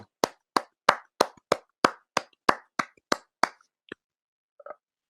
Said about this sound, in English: let's give Tony a round of applause for that, man.